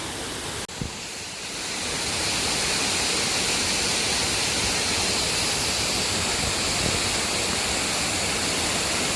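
Lover's Leap waterfall on a misty, rainy hillside among tea estates, with a steady, loud roar of falling water that swells up after a brief quieter start and then holds as a broad continuous rush.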